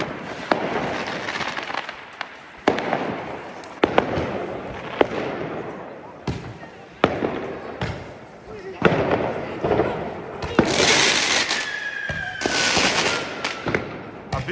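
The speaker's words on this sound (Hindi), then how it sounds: "छोटे छोटे धमाके हो रहे हैं" Firecrackers pop and crack outdoors in Germany on New Year's Eve, scattered sharp bangs near and far with occasional whistling rockets, while people talk throughout.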